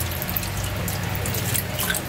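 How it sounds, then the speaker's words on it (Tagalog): Water poured into a cooking pot while making ginataang bangus, a coconut-milk milkfish dish, giving a steady, close splashing flow that runs for the whole moment without talk. "Tapos lagyan natin ng konting tubig"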